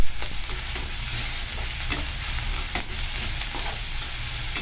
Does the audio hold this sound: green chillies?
yes